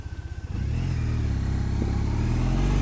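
A 2012 Triumph Bonneville motorcycle pulls away and rides on, its engine pulsing at idle for a moment before settling into a loud, steady, close drone with no speech.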